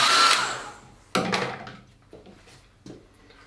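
A hair dryer blows close and loud on a watercolor sky painting, a steady broadband whoosh that starts the clip, then a short second burst restarts it, with quieter handling knocks afterward.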